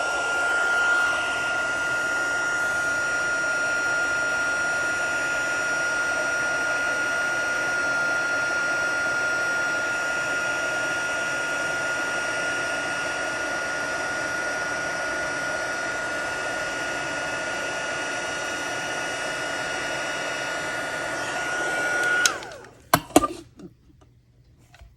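Heat embossing tool blowing steadily over embossing powder on a stamped card, a continuous loud hiss-like whoosh that runs for about twenty seconds, then cuts off with a few clicks and knocks as it is switched off and set down.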